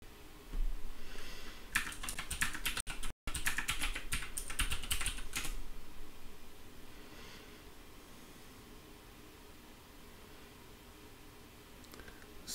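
Quick clattering keystrokes on a computer keyboard come in dense bursts over the first few seconds, then taper off to a quiet room with only a stray tap or two near the end.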